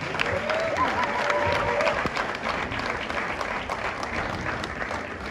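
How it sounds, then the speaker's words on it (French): Audience applause at an award ceremony during a trophy presentation, a dense, steady clapping from a crowd that carries on throughout at moderate volume. "Sous vos applaudissements, n'hésitez pas vraiment."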